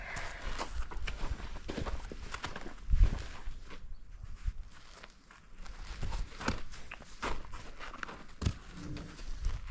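A horse being taught to hobble moves its hooves in a few irregular, close thuds and scuffs on the ground, with handling noise and a light outdoor background.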